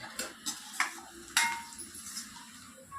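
Onions fry in a pan for a village-style mutton curry, the soft sizzle broken by sporadic sharp taps and scrapes of a spoon against the pan.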